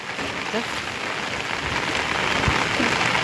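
Steady rain patters on a surface, a dense, even hiss with scattered drops, moderately loud and continuous.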